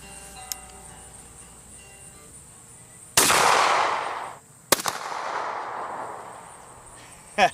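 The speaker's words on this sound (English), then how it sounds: "here we are 15 with the number 6 shot" .410 shotgun loaded with number 6 shot fired at 15 yards: a sharp, loud blast with a trailing decay, then a second report a moment later, over a quiet outdoor background.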